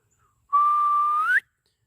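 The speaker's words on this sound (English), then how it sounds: "I'm blowing a whistle." One clear, shrill whistle blast held for just under a second, rising slightly at the end, in otherwise quiet surroundings.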